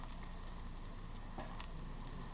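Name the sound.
tofu frying in oil and butter mix in a pan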